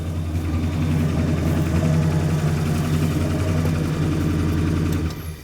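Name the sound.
Dodge Monaco engine running with chambered muffler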